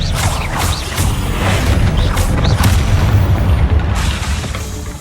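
Expelliarmus spell blast in the video game Hogwarts Legacy, a deep booming impact with a sustained rumbling roar and a few crackling bursts, loud and close.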